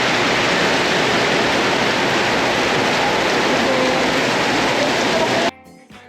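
Steady, dense rain in Cebu, pouring as a constant hiss for several seconds. It drops off abruptly near the end.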